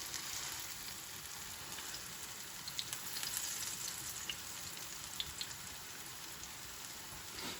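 Falafel patties fry in a pan with a soft, even sizzle, faint and steady, sprinkled with occasional light pops and crackles, no voices.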